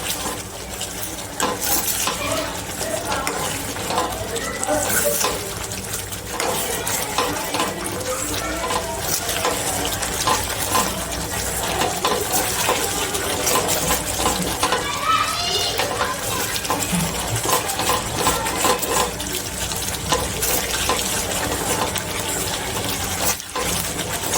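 Turmeric and red chilli spices frying in oil in a pan for Kathiyawadi sweet corn masala, a steady dense sizzle with stirring and utensil clinks running throughout, close and fairly loud.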